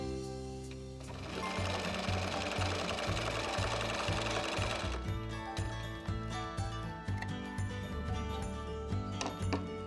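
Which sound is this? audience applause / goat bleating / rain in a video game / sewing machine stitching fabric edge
sewing machine stitching fabric edge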